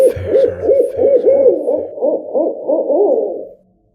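An owl hoots in a steady series of repeated calls, loud and close, set against a hushed night-forest atmosphere and then falling silent.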